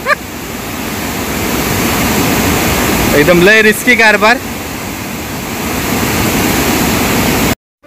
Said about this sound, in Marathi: धबधब्याचं पाणी बघा ते कसं पडतं आता.